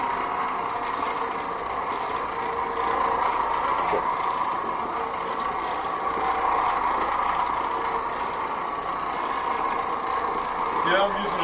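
Oreck Orbiter floor machine running a thin cotton bonnet over cotton-blend carpet in a mobile home, a steady loud droning motor hum with a slight buzz throughout, and someone talking over it.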